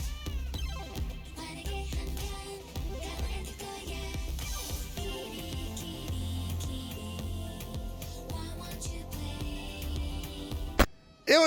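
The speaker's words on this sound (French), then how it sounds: "Son emote miaou intégré." A cat character's built-in meow emote from the Fortnite video game, a short in-game meow heard over steady game music and effects, with a brief louder burst near the end.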